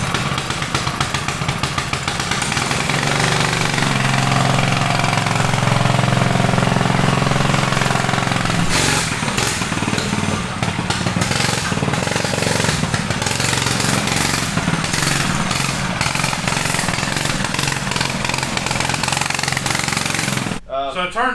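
A Rascal Lite mini bike's small engine runs loud and rough close by, with a steady buzzing drone that changes in tone partway through, while people talk over it.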